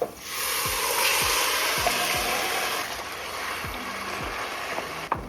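Ingredients go into a hot pan for a vegan creamy tomato pasta sauce, setting off a steady sizzle of frying alongside intermittent scraping and stirring sounds, close and moderately loud.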